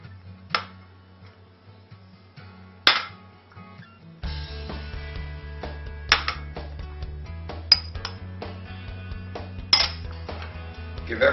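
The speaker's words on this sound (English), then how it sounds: "What we're going to do is we're going to combine those all together and then apply them to the pork roast." A spoon clinks and scrapes against a bowl while cayenne, black pepper and smoky paprika are stirred into a spice rub for pork, giving scattered sharp taps over steady scraping with no talk.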